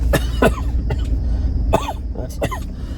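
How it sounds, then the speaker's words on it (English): A man coughs repeatedly in harsh, throaty bursts, about five coughs spread over a few seconds, close up over a low rumbling background. "that's me coughing up a lung"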